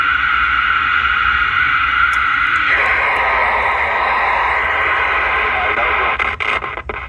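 A faulty CB radio speaker, a Pearce Simpson or Uniden Bearcat 880 under repair, hisses and crackles with garbled, distorted transmission, steady static carrying faint voice-like bursts, ending in a few sharp clicks.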